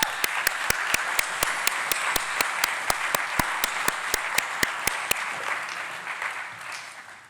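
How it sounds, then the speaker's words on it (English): A Ruby programming conference audience applauds volunteers coming up on stage: a full, steady round of clapping with one sharp, evenly timed clap cutting through, then fading out. "Give them a round of applause."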